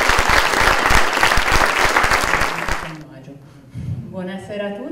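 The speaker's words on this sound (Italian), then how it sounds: "applauso." Audience applause at a fraternity festival concert, dense steady clapping for about three seconds that stops abruptly, followed by a speaker's voice.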